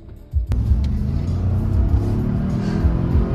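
A 2022 Ford Expedition with about 400 miles on it drives along, its engine giving a steady, close rumble and low road drone that swells briefly near the start.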